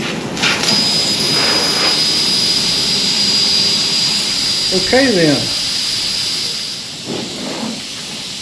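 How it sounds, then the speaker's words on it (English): Steady broadband hiss of air escaping from a punctured car tire in a garage, loud and continuous throughout, with someone speaking briefly over it. "Now I hear the air coming out."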